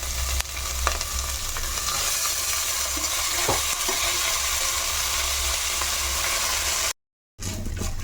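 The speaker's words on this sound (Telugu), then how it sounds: "ఆ చెమ్మ ఆరిదాకా ఒక 2 minutes అలా వేయించుకోవాలి రైస్ని" Washed rice being fried in a pan with curry leaves and coriander for coconut pulao, giving a steady broadband sizzle throughout with occasional scraping stirs, close and loud, no talking, broken by a brief silent gap near the end.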